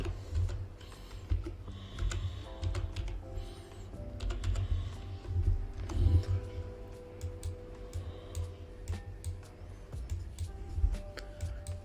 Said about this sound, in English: Now I hold number 3 on keyboard and left click again.